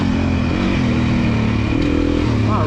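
Beta 350 RR dirt bike, a non-race-edition model, running close by with a steady low engine drone and mild revving throughout, with faint voices in the background at a demo day.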